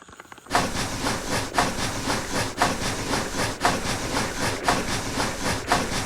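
A train rolls steadily along the tracks with a continuous rumble and hiss, broken by regular clacking beats about once a second.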